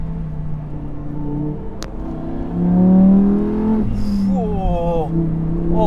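A Lamborghini Huracan Tecnica engine revs hard, its loud, close howl climbing in pitch toward the 8,500 rpm redline, then easing and rising again in quick upshifts, with a person talking over it.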